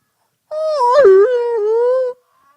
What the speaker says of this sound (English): the sound of a rhino in heat.